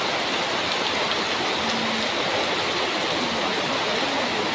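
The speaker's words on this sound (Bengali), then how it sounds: "কি বৃষ্টি আরম্ভ হলো, একদিনও বন্ধ নেই।" Heavy rain pours down in a dense, steady hiss without pause, loud and enveloping, with no voices or other sounds standing out.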